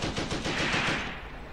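Gunfire in the Graviteam Tactics war game, a short burst of rapid machine-gun shots that fade into echoing rumble, heard at moderate distance without talk.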